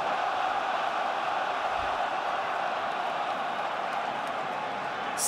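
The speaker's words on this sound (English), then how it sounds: "But it's got the crowd going." Steady roar of a football stadium crowd at a Hamburger SV versus Karlsruher SC DFB-Pokal quarter-final, a continuous dense wash of voices rising after a cross into the area, loud and unbroken throughout.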